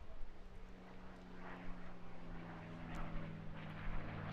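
A propeller aircraft makes a topside display pass at an airshow, a faint, distant engine drone that rises slightly toward the end amid open-air background noise.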